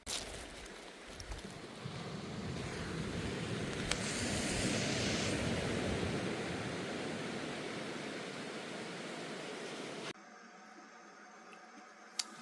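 Waves wash onto a beach at a bush camp, a steady broad rushing roar heard close by, with a quieter stretch near the end.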